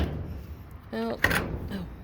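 A swollen wooden door that had stuck shut on a small homestead is forced open, giving a short creaking groan and then a knock and thud. The sounds are brief and close, with light background noise.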